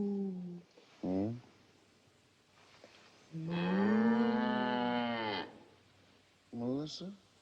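A cow called Melissa II moos on a small farm: one long, loud, drawn-out low with rich harmonics, set between brief bursts of nearby voices and other short animal calls.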